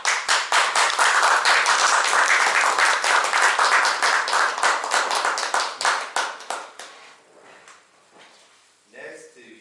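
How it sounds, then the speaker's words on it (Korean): Audience at an investigation conference in Kyrgyzstan applauds a speaker: dense, loud clapping from a crowd for about seven seconds, then thinning to scattered claps and fading into quiet room noise with a brief murmur of voices at the end. "카라타이님께 큰 박수 부탁드립니다."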